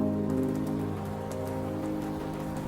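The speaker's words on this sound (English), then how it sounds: "and the rain falls outside" Steady rain falls outside a train at night, a dense, even patter with no breaks and no voices.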